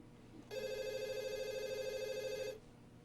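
A telephone bell rings in one continuous electronic trill lasting about two seconds, clear and fairly close against a quiet room.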